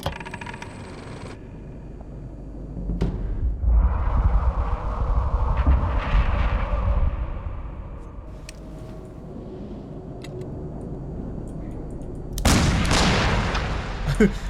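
Gunfire in the horror video game Layers of Fear (2023), a sustained rumbling barrage with sharp bursts at the start, around three seconds and a loud swell near the end, with no talk.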